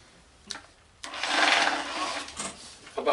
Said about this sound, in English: See how that spins in the drill?